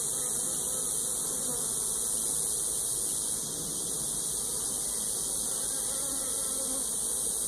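Honey bees swarm around an open hive, a dense, constant high buzzing close to the ear that holds steady with no talking.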